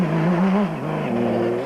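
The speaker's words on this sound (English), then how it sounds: "from Herbie Smith in the beautifully turned out Mighty Mag, which is powered by a motorcycle engine" An off-road race vehicle, the Mighty Mag powered by a motorcycle engine, roars loudly at close range with a rising and falling engine note, easing off briefly and then revving again during a desert race.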